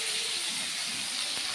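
Potatoes fry in leftover oil in a home kitchen, a loud, close, continuous hiss-like sizzle with one faint knock near the end, no talking.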